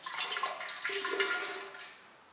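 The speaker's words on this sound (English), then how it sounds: "This method of filling the tank is slowly, not splashing." Beer flowing slowly into a fermenter tank without splashing, a steady soft rush of liquid throughout, near and moderately loud, fading slightly toward the end.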